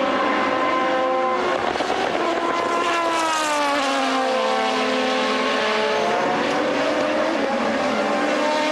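2009 Le Mans Series endurance race cars, including LMP2 prototypes, at the Algarve 1000 km: loud, continuous engine roar with several overlapping tones rising and falling in pitch as cars accelerate and pass.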